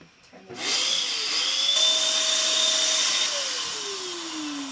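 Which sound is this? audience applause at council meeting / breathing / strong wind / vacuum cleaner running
vacuum cleaner running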